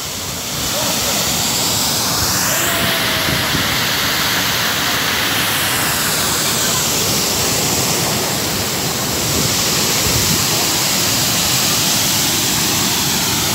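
The Çiseli waterfall in Ordu, Turkey, gives off a continuous, even roar of rushing water that stays loud and close throughout without a break.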